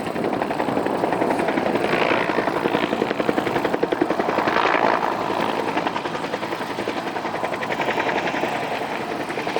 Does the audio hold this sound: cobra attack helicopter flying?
yes